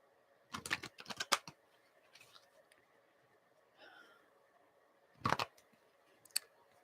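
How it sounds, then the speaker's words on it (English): Tarot cards shuffled by hand, heard as a few short crisp riffling bursts with quiet pauses between, fairly close and alone. "I hate when cards are hard to shuffle."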